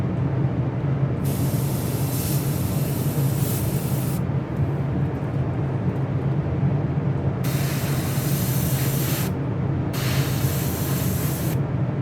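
An airbrush sprays paint on a model ship, producing a loud steady hiss in bursts that start and stop, heard close against a constant low background hum with no talking.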